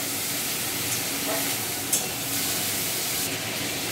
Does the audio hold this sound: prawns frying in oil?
yes